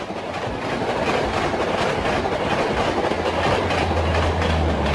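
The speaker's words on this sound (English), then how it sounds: "Passenger trains are designed to transport people rather than goods." A passenger train runs on rails with a loud, steady rumble and faint rhythmic clatter of wheels, joined late by a low droning hum, with no voices.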